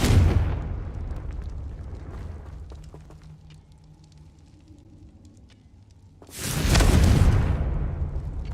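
A Confringo spell blasts in a video game: one loud, broadband explosion opens the clip, fades into a low rumble, then a second big burst erupts near the end and lingers.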